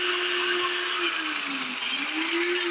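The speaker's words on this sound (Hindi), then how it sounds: "ये ड्रिल मशीन चल रही है" Electric drill machine powered by a 2 kW car inverter, its motor whining steadily close by with a high-pitched buzz and a slight dip and rise in pitch midway, running alone without talk.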